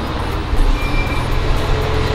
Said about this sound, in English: Truck, bad timing.